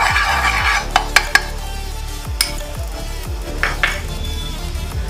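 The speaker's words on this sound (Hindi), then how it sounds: "सबसे पहले मैं इसके ऊपर एक चम्मच देसी घी डालूंगी।" A spoonful of desi ghee sizzles on a hot tawa while cheese paratha is made, a soft continuous hiss broken by a few sharp metallic clinks of a spoon against the pan, close and without talk.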